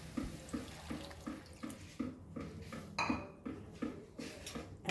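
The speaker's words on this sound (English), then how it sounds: "1 cup of water is enough so that it gets cooked nicely." Water poured into a pot of sprouted horse gram while making a Goan curry, a steady splashing flow with soft clinks of the pot, close and continuous without any talk.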